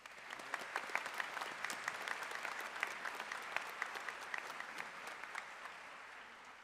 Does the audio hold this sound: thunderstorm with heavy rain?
no